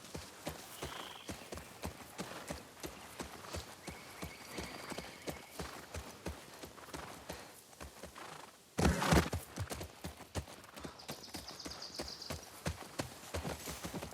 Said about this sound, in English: Oh, I can get off the horse.